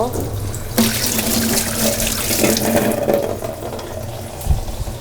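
Tap water runs steadily into a sink while a dirty utensil is rinsed and scrubbed in a home kitchen, the splashing continuous and close with brief clatters near the end.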